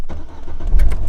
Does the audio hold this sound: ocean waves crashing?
no